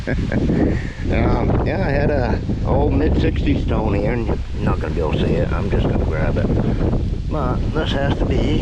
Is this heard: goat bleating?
no